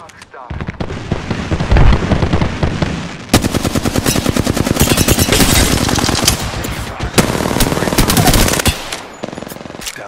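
Loud, sustained automatic gunfire in the Apex Legends battle royale game, dense rapid bursts running almost continuously with brief gaps, layered with explosive effects and game sounds.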